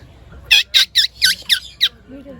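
A person whistles a parrot imitation: six short, shrill, squeaky bursts in a quick, even series, then a faint voice briefly at the end.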